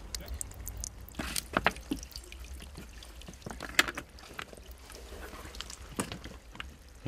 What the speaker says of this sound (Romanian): Avem nevoie de apă pentru mortar, iar aici e ultimul izvor.